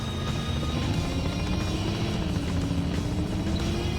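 Helicopter in the 2001 video game Spy Hunter, a steady droning rotor and engine roar with a low rumbling pulse, continuous and fairly loud with no speech over it.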